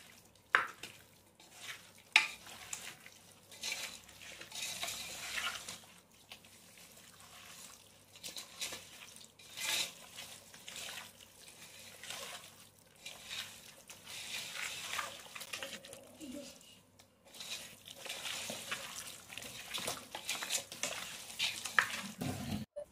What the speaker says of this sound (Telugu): ఈ మసాలాలన్నీ ముక్కలకి బాగా పట్టేలా కలపాలి.